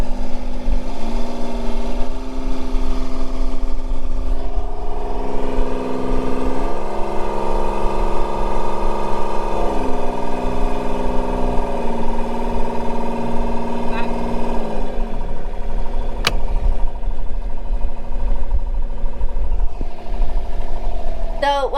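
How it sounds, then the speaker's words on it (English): A boat engine runs steadily while its revs and tick-over are fine-tuned, the pitch shifting up and down through a droning hum over about twenty seconds, with a brief sharp click near the end. "Davy's fine-tuning the revs on and tick over and stuff on the engine"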